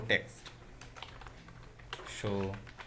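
Keys clack on a computer keyboard while code is entered for a jQuery exercise, with scattered light taps and someone speaking over them.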